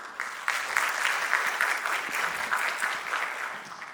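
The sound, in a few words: applause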